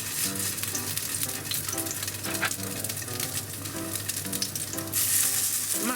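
Chicken meatballs with shiso and cheese frying in a pan over medium heat, a loud, continuous close-up sizzle with faint stirring clicks, no talking.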